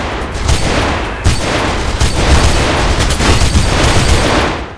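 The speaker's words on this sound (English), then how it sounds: "I can't miss out on an opportunity to use this big ass light machine gun" A light machine gun in Mirror's Edge fires in dense, continuous bursts, loud and close, with heavy booming reports blending into a steady roar.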